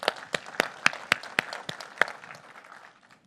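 Small audience at a Google Cloud Next '19 conference session gives a brief round of applause: a handful of sharp, separate claps that quickly thin out and fade to quiet murmur.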